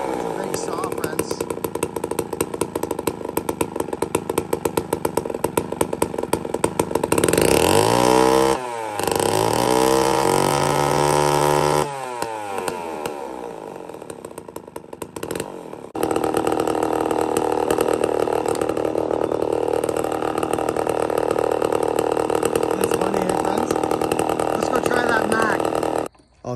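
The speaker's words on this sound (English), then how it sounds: "Oh, she's alive. It's a big saw" A large chainsaw engine runs loud and close, its steady buzz dipping and surging as the throttle changes, with a short rev in the middle and people talking over it.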